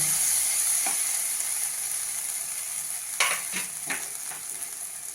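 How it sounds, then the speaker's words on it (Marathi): Masala for a capsicum gravy bubbles and fries in oil, giving a steady soft sizzle. A few stirring scrapes come near the end, close and moderately quiet. "त्याला बघा बाजूनी बुडबुडे येत आहेत म्हणजे ते तेल सुटायला लागलंय"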